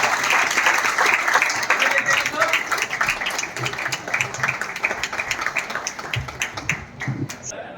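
Audience applause at a Delhi Police poetry recital (kavi sammelan), a steady wash of many hands clapping throughout, fairly loud and dense, thinning slightly toward the end.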